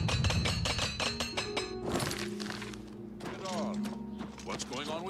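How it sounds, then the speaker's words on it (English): A repair hammer taps and clinks on armor in Oblivion Remastered, several quick metallic strikes in a row over background game sound and music, followed by a voice talking. "Repair hammer."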